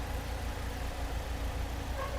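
A 2015 Volkswagen Polo 1.4 with a new engine sits idling, giving a steady, fairly quiet low hum that holds evenly throughout with no voices.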